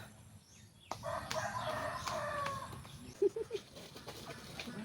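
Four native chickens cluck softly in the background, with a few short, louder squawks standing out near the end; no speech.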